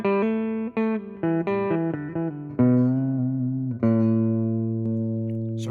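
Electric guitar playing single pentatonic notes through a tube amp with the humbucker pickup engaged, a run of short plucked notes followed by two longer sustained ones, clean and close with no talking.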